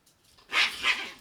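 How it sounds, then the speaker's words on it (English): Several dogs fighting indoors let out two loud, sharp barks or snarls close by, after a quieter lead-in. "Oh, my dogs are fighting."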